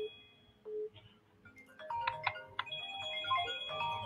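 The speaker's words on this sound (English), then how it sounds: "Darlington, if it is your phone that ringing, you got to mute while you're not on because it's interfering" A phone ringtone going off on an open radio call-in line, a repeated electronic ringing melody that grows louder through the clip over a background hum, with no talk.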